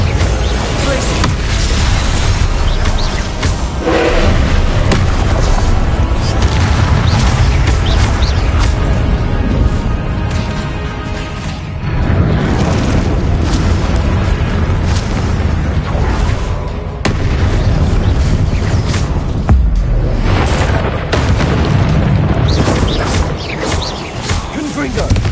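Confringo blasting spells detonating over and over during combat in Hogwarts Legacy, with loud, dense bursts and booms. They run almost without pause beneath game music and other battle noise.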